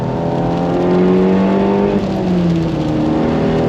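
A car on semi-slick tyres drives a wet track in pouring rain, its engine droning steadily with gentle pitch changes while a broad hiss of spray from the tyres runs underneath throughout.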